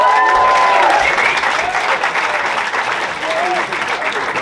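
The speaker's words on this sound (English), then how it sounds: "Clap it up for Pete Ballmer." A stand-up comedy crowd breaks into applause and cheering as comedian Pete Ballmer is introduced, a dense, lively roar of clapping and voices that holds for several seconds before easing slightly.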